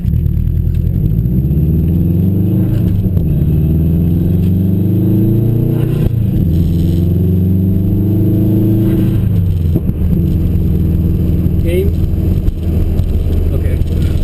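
A 2007 Subaru STI with a manual gearbox runs with a rough, slightly off turbo note, its engine drone rising and falling steadily in pitch as it is driven, loud and close from inside the car.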